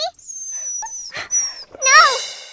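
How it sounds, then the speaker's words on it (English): A dog whimpers in a Stikbot stop-motion comedy, thin high whines and a rising wail in short bursts, close and fairly loud, broken by brief gaps. "I love this dog"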